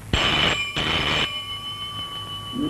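Telephone ringing indoors with two long electronic bursts, each about half a second, separated by a brief gap, loud and close, then a faint steady tone lingering afterward.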